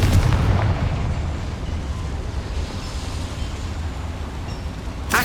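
A Confringo fire spell explodes in Hogwarts Legacy, a heavy booming burst at the start that trails off into a long, rumbling low tail, followed by a sharp crackle near the end.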